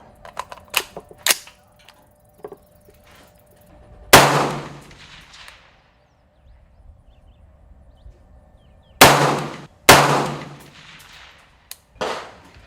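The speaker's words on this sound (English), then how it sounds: "let's go ahead and shoot my 3-shot group" Rifle shots from a three-shot group fired at a 300-yard range, with several sharp, loud cracks spaced seconds apart, each trailing off briefly, and faint clicks and handling noises between them.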